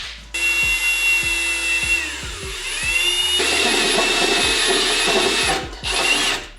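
A tap cutting threads into a hole on an LS V8 water pump or oil pan for turbo oil returns, a steady close whirring mechanical drone with rhythmic ratcheting clicks, getting rougher and louder midway before briefly stopping and restarting.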